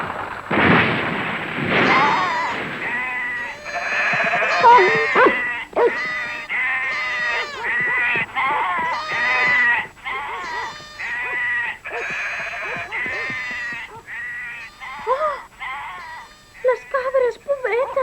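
Goats bleat repeatedly in wavering cries, some overlapping, loud and close, with people talking in between.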